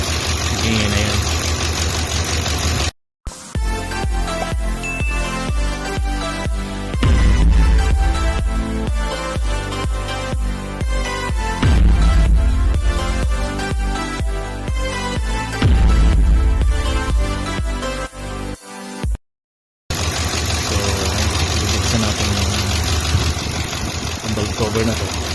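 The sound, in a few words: engine knocking in an idling 2012 Ford Expedition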